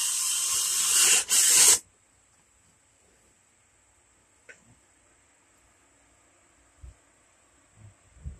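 A power drill drives a couple of screws while boxing in an AC unit at a trailer home, with a loud whirring burst up close, then near-silence broken by a few faint knocks and clicks.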